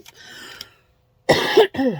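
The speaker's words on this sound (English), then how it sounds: "I don't mean to keep clearing my throat at you guys, but I'm trying not to cough at you guys" A person clears their throat briefly, then after a short silence gives two close, harsh coughs, near and fairly loud, with no speech.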